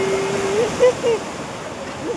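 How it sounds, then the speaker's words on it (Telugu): Sea waves wash in at Marina Beach in Chennai, a steady close surf roar with a voice briefly heard over it. "అలలు మొత్తం ముంచేసాయి."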